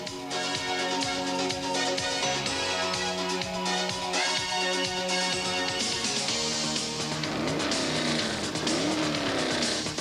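Racing car engine and tire squeal from the OutRun video game, a steady buzzing engine drone with shifting pitch and repeated squealing skids, loud and continuous over synth game music.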